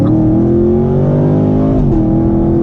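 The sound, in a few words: sports car exhaust pop on upshift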